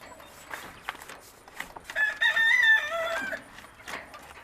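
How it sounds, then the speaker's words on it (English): Snowflake quail in a pen give a brief, raspy crowing call amid soft clucks and scattered rustling, fairly close in a quiet outdoor setting. "we have 1 pen of quail left. And they are these guys. No, you can't climb in there, bud. So they are snowflake quail"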